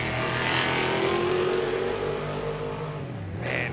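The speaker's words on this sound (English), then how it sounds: "all these cars sound absolutely sick off the line" Off-road race cars, including a classic Ford early F truck, roar hard off the start line at the Finke Desert Race, a loud continuous engine blare swelling then easing with rising revs near the end.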